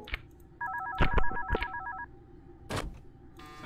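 Phone ringing in the horror video game One Night at Flumpty's, a warbling electronic ring in short repeated pulses among loud thumps and clicks, close and clear.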